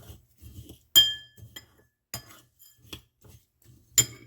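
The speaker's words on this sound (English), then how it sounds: "Stir that up a little bit." A spoon stirs chia seeds and cinnamon in a glass, giving a run of soft scraping taps broken by several sharp, close clinks against the glass.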